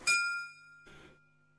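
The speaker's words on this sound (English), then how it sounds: "Oh, triangle." Triangle tone from the Windows 3.1 McDonaldland game, a bright metallic ring that strikes once and fades, then a second softer burst, clean and close with no talk.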